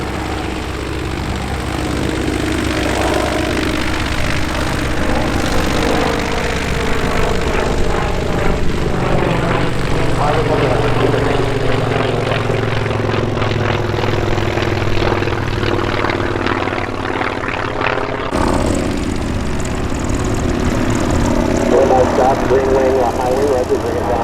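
A tail-dragger propeller airplane arrives at EAA AirVenture Oshkosh with a loud, steady engine drone whose pitch shifts as it passes, sustained throughout and cutting off sharply near the end, with radio-style talk over it.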